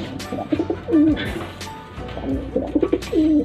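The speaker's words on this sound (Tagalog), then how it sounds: "Sila dito mga kalapatids." Pigeons coo repeatedly in a loft, rolling low calls rising and falling in several bursts, close and fairly loud, with a steady background murmur.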